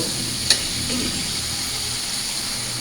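Potatoes fried in spices for a mango dal as water goes in, a steady broadband sizzle and hiss with one sharp clank near the start, no voices.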